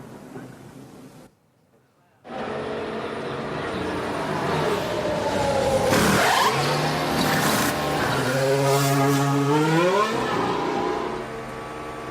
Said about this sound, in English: A crewman polishes the windshield as Holland moves away just 67 seconds after he stopped